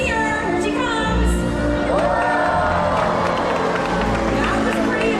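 Stadium crowd at a SeaWorld orca show cheers in a sustained, loud swell, with whoops and children's shouts rising over continuous background music and a bright, busy roar.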